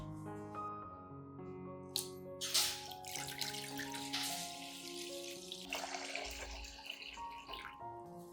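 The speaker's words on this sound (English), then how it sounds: "prepare a pot like this and add about 1 liter of water" Water pours into a pot to make about one liter, a soft splashing stream with a few bright plinks and a trickling tail, quiet and close, set against soft background music without talk.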